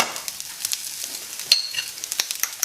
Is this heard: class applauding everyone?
no